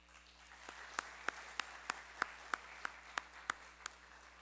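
Sparse, evenly spaced hand claps at a debate competition final, about three per second, thin and distinct rather than a full crowd ovation, over a quiet room hum.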